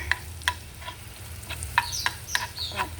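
Butter melts in a pan while chicken calamansi is being made, giving a soft, steady sizzle and crackle close up, broken by a few brief sharp clinks and scrapes of a utensil against the pan, with no voices.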